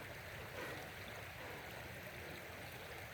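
A creek flows outdoors, a soft, even rush and babble of water that continues unchanged throughout, faint and fairly distant.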